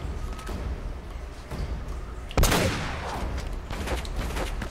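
Gunfire in Uncharted: Drake's Fortune, one loud close gunshot bursting out midway over a busy game background, with fainter pops and thuds around it.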